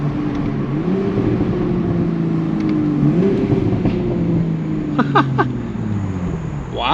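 A Toyota Supra MK5 with its B58 engine accelerating hard, heard from inside the car with the windows down: a close, loud engine tone climbs steadily, shifts, then keeps rising through sustained pulls.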